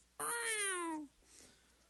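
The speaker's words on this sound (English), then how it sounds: "the cat watching out for you" A single loud cat meow, close and drawn out for about a second with a falling pitch, then near silence.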